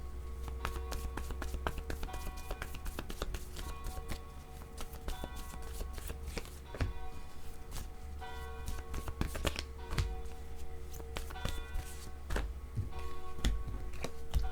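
Word cards being handled and shuffled by hand, a continuous run of quick papery flicks and riffles with sharper taps at intervals, close and moderately quiet.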